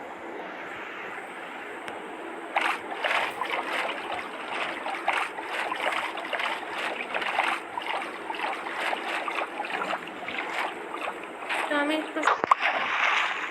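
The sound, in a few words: rowing a boat on water in Minecraft video game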